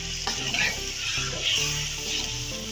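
Onion paste, tomato paste and lemon juice frying in a pot for pea chicken curry, a steady close sizzle with stirring scrapes, moderately loud and without talk.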